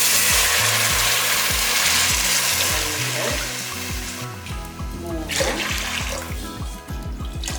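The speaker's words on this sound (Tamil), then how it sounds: "நாலு கப் அளவுக்கு தண்ணி ஊற்றிடலாம்" Water pours steadily into a pot with a rushing splash that thins into trickling, along with rhythmic clicking and scraping.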